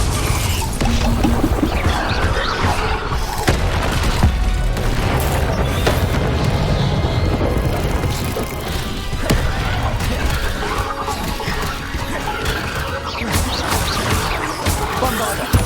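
Confringo fire-blast spells from Hogwarts Legacy crack and boom in rapid succession, loud and close, with crashing impacts and rumbling debris continuing throughout and a voice speaking over them.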